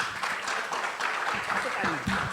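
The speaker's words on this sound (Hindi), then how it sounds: "अभी ताली बजा रहे" An audience clapping along at a stage event, a dense continuous patter of applause under a speaking voice and some scattered vocal sounds.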